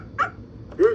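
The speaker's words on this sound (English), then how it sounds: "This is the dog." Toy dog bark from a VTech Little Smart First Steps talking toy: two short electronic yips, the second louder, played close and alone with no speech.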